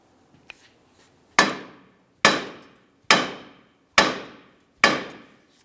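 Five sharp, evenly spaced metal strikes ring out close by as a hammer hits the steering knuckle of a 2006-2012 Ford Fusion to separate it from the lower ball joint, each blow decaying quickly, after a faint tap.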